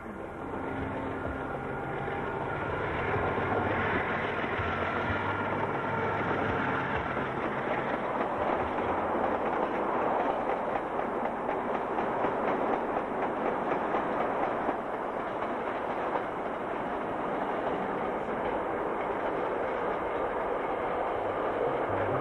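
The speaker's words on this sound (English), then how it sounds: "train 946 heads past Black Beach and towards Gisborne" Train 946 rolls past Black Beach toward Gisborne on the Pacific coast line in 1991, a continuous loud rumble with faint clickety-clack of wheels on rail, steady throughout with no voices.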